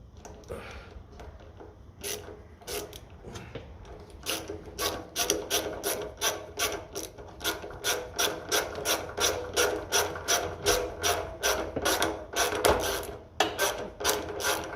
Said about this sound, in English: Put on our bigger socket. That should be strong enough then to do the business.